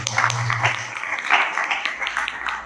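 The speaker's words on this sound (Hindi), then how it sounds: "तालियां।" A small audience claps at a spiritual teaching session, with short, uneven bursts of applause that rise and fall over a couple of seconds.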